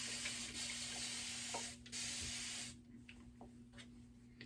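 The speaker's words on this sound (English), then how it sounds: "I'm going to spray it with some regular water again." Several long, hissing bursts from a spray bottle misting plain water onto locs, fairly close and steady, then a pause with faint rustling.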